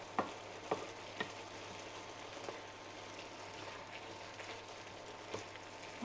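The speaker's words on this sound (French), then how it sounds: "Donc on mélange, il ne faut pas que ça colle dans le fond de la poêle." One-pot pasta simmers and bubbles in water in a frying pan while a utensil stirs it, with soft scrapes and taps over a low, steady bubbling sizzle, fairly quiet throughout.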